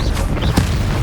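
Confringo blasting spell explosion in Hogwarts Legacy, a short low boom with a brief sharp burst in the middle, heard over game sound for about a second.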